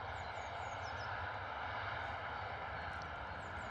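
An EasyJet airliner departing Bristol Airport in a crosswind gives a steady, distant engine roar that holds level throughout, with faint bird chirps above it.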